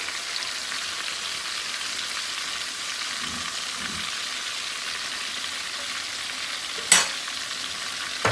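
Chicken legs fry in a pan for a spicy chicken leg pulao, giving off a steady, close, even sizzle that continues throughout, broken by a single sharp clink near the end, with no talking.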